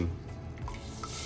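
Heavy cream pours into a simmering white wine sauce in a pan, giving a steady close bubbling sizzle with soft stirring and liquid sounds throughout, no voices.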